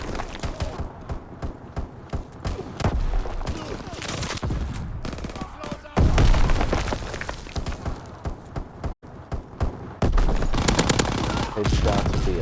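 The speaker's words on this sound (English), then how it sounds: "Headshots with the LMG" Light machine gun fire in Call of Duty: WWII, dense bursts of rapid shots with impacts and game effects, loud and near, continuing in waves throughout.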